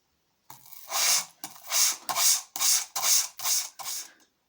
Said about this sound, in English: This is 80 grit, and gradually work through the grit sizes until I get a nice smooth finish.